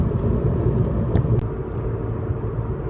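A 2013 VW Golf TDI cruising on a highway, heard from inside as a steady low road and engine rumble with faint higher clicks over it, continuous and fairly loud with no talking.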